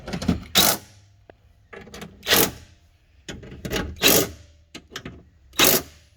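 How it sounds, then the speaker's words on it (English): Ratcheting and clicking bursts from a 10mm socket tightening bolts during a window regulator install on a 2010 Chevrolet Silverado Extended Cab, coming in several separate close, loud spells with quieter gaps between them. "Now we're going to use a 10mm socket to secure everything down."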